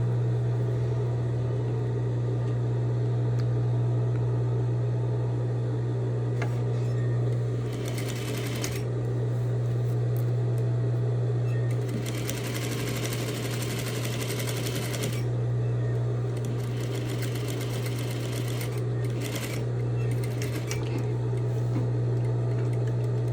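Sewing machine running steadily while stitching bias facing on a garment, a continuous close mechanical whir with bursts of faster stitching and brief pauses.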